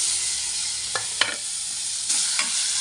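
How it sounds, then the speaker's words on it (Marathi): Cut tomatoes go into a hot pan for rava upma and sizzle loudly, a broad continuous hiss punctuated by several sharp spatula clacks and stirring knocks. "तर यात टाकूया आपण कट केलेले हे टमाटर."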